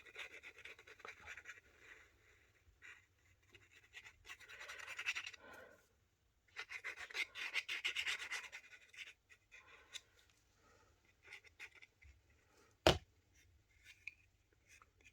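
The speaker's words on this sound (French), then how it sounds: "Bien étaler sa colle sur tous les coins." Glue being spread across paper for a heart-shaped shabby scrapbook photo album, soft scratchy rubbing strokes in quiet bursts with pauses and one sharp tap near the end.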